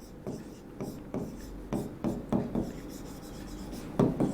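Chalk or marker scratches across a board during a chemistry lesson in short irregular strokes, a close, soft rubbing scrawl over a steady low room hum.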